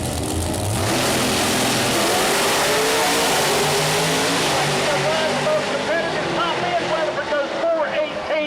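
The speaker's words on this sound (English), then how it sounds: "Good side-by-side race there, folks, as Sonny Tyndall was a 420 at 171 miles per" Pro Mod heads-up door slammer drag cars race side by side at Mooresville Dragway, their engines roaring loud and continuous, revving high and fading as they run down the strip, with a crowd-like wash underneath.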